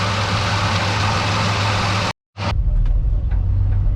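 A 1968 Chrysler VE Valiant, its carburettor freshly rebuilt, idles steadily with a low, even engine hum that drops out briefly and then resumes slightly quieter.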